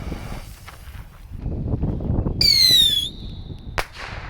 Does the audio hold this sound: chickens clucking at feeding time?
no